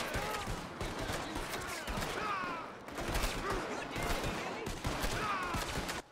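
Dense, continuous gunfire in Red Dead Redemption 2, with many overlapping shots forming a steady roaring volley that barely lets up through the whole stretch.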